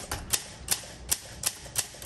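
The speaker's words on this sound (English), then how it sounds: "Let's do some typing." Typing on a 1958 Olympia SM3 manual typewriter: crisp, evenly spaced key strikes land about every third of a second, each a sharp metallic clack, close and clear with no talking.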